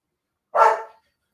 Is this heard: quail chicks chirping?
no